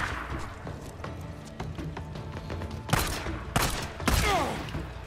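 Gunfire in the video game Days Gone, a few loud, sharp shots over a busy background of in-game action and scuffling.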